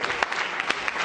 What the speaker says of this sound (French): Applaudissez pour le Congolais.